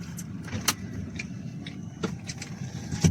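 A car idles and shifts quietly while being moved to another parking spot, a low steady engine hum with a few small clicks and rattles on top.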